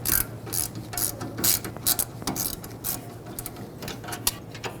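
A hand ratchet clicks rapidly in close, repeated bursts while loosening the rear brake caliper bolts on a 2015-2020 Ford F-150, the pawl chattering through several short strokes with a steady low hum underneath.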